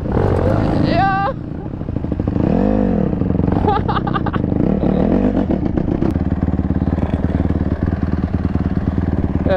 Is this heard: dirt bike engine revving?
yes